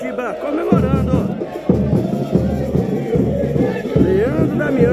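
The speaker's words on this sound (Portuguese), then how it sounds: "Ali a torcida do Coritiba comemorando." Coritiba fans in the stadium celebrating a Leandro Damião goal against Cianorte, a loud crowd din with rhythmic pulsing chants and drum-like thumps, under a voice talking over it.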